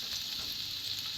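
Garlic sautés in a hot pan with a close, steady crackling sizzle that runs without a break for the whole short stretch.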